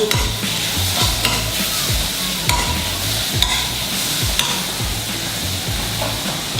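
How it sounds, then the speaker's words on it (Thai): Paprika being stir-fried in a pan for a creamy salted-egg squid noodle dish: a loud, continuous sizzle under rhythmic scraping strokes of a spatula, close and steady throughout, with no voices. "เอาบาปิก้าลงไปผัด"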